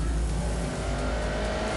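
A turbocharged Audi with new rods, pistons and turbocharger making 330 horsepower roars with a steady, loud engine drone as it drives, sustained and close for a brief moment with no voices over it.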